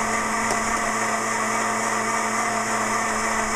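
A blender mixing sugar and water whirs steadily with a constant motor hum and tonal whine, even and unchanging, heard at moderate volume with no voices.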